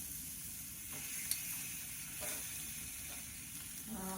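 Tandoori chicken skewers sizzle on a hot sizzle pan pulled from an Ovana pizza oven, a steady close frying hiss with a few brief pops and stirs of crackle throughout.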